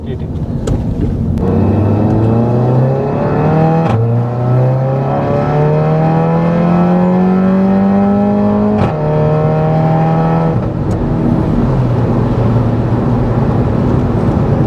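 A Maruti Alto on the road, its engine and exhaust droning loudly and up close, rising in pitch through the gears with short dips at each shift, while a voice talks over it.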